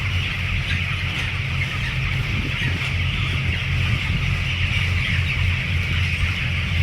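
Chickens cluck steadily over a low, constant hum, a busy flock heard close by, one bird having fits.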